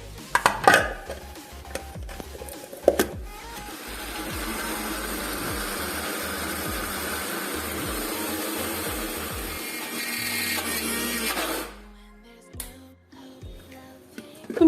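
A kitchen mixer grinder purees raw chicken pieces for homemade sausage, whirring steadily and loudly for several seconds after a few clinks, then winding down to a stop.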